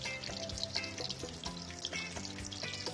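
A pork cutlet fries in a pan of hot oil, giving a steady, close, bubbly sizzle with crackling pops throughout, heard alone without voices.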